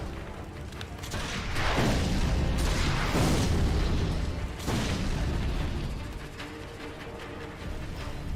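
Enemy cannon fire in Sekiro: Shadows Die Twice, heard as deep, rumbling booms that swell and fade over several seconds amid game mechanism noises, no speech.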